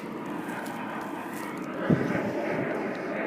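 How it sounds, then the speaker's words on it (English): A junk lawn mower engine runs continuously but rough, a dense droning roar with a brief stumble and surge partway through, close up and with no talking. "it's definitely not running smooth. It's got some hesitation in the engine."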